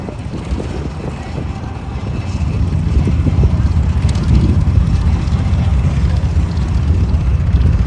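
A Bushcat light aircraft at the Parys Airshow, its engine droning steadily and swelling louder partway through, mixed with heavy wind buffeting on the microphone.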